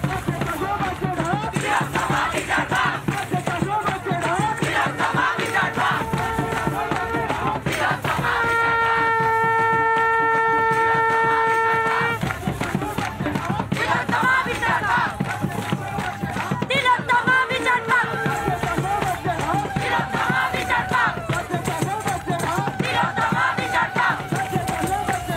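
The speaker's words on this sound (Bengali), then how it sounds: "শঙ্খনাদ হচ্ছে, শঙ্খনাদের সঙ্গে স্লোগান চলছে।" Conch shells blare in long sustained tones amid a chanting crowd at a street protest by junior doctors in Bengal, the steady drones rising and falling over dense crowd noise and a speaking voice throughout.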